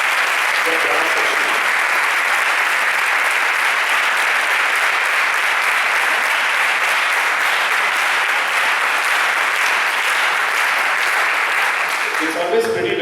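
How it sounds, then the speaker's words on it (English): An audience at a college orchestra competition applauds the brass section, a long, loud, sustained wash of clapping from a full hall that stays even throughout and eases off briefly at the very end. "So good round of applause for the guys who played the brass section."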